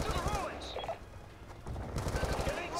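Galil assault rifle fire in the Black Ops 2 campaign, with rapid bursts of shots mixed into dense game battle noise and voices throughout.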